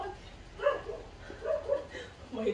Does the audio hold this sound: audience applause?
no